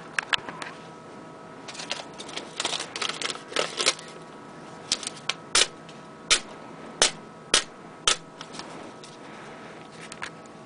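A brand-new Rat 1 folding knife slices through a sheet of paper, giving a run of crisp, close rustling cuts followed by several sharp, evenly spaced ticks and rasps.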